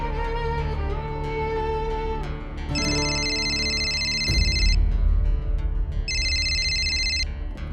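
Electronic phone ringtone trilling in two bursts, each about a second or two long with a pause between, over a background of dramatic music.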